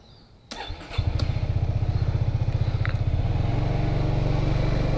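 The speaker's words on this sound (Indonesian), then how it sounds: "kita langsung coba test ride kayak apa rasanya naik X-Max" A Yamaha XMAX 250cc scooter engine starts after a soft click, then settles into a steady, close, rhythmic low idle thrum that stays loud and even through the rest of the ride start, with no talk.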